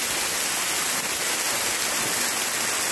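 A waterfall and falling water drops inside Bhairav cave make a loud, continuous hiss of rushing water that fills the whole stretch without a break.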